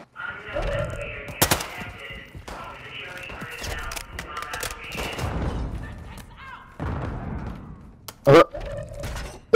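Explosions and gunfire in a multiplayer shooter game, with scattered thuds, bangs and bursts through the clip and one sharp loud blast near the end, while players talk over the action.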